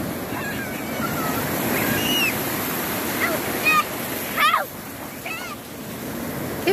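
Sea waves washing at a UK beach on a wavy day, a steady broadband wash that persists through the clip, with a few brief high whistles and faint voices near the end.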